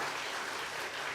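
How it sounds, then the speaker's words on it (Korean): A church congregation applauding during a Sunday service, a short burst of dense, steady clapping from many hands, loud and close throughout. "크게 한번 박수 한번 치겠습니다."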